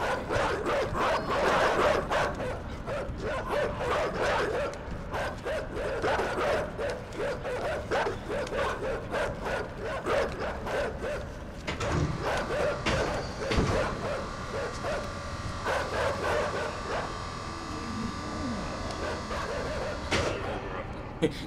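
Dogs barking repeatedly in the side-scrolling game Inside, a rapid string of close, loud barks and yips through the first half that thins into scattered barks and whimpers over a low rumble.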